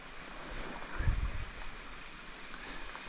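Flowing creek beside an Appalachian Trail campsite: a steady, soft wash of running water with a faint low rumble, no voices.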